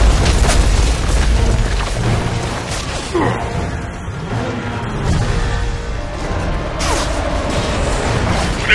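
Artillery shells explode in Gears of War 3, heavy booming blasts and rumbling debris crashing over a loud, churning combat din, several impacts spread across the scene.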